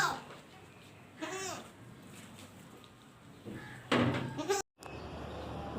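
White Teddy goat, active and healthy, bleating a couple of times close by, with faint background noise and other animal or human sounds between calls.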